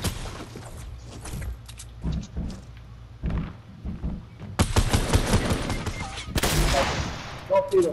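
Rapid bursts of Fortnite gunfire crack loudly, with dense volleys near the end and a few separate shots in between.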